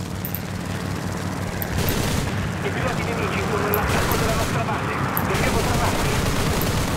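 Gunfire from a B-17 bomber in War Thunder at Iwo Jima, with sustained rapid bursts of shots over a steady engine drone and someone talking over it.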